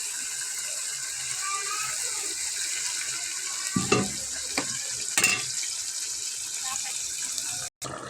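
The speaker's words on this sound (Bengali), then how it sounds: "আমি মাংসটা কষিয়ে নিচ্ছি" Meat sautéing in a pot gives a steady sizzle under faint background talk, with a few sharp scrapes and clatters from stirring partway through and a brief dropout near the end.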